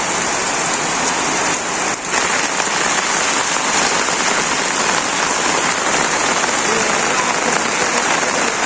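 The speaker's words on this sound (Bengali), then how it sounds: "বৃষ্টি নামছে" Heavy rain pours down in a Bangladeshi village as a loud, dense, unbroken hiss of drops drumming on surfaces, close and constant throughout, with faint voices under it.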